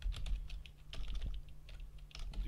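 A folder name being typed on a computer keyboard: a quick, uneven run of light key clicks at close range, quiet and with no voices.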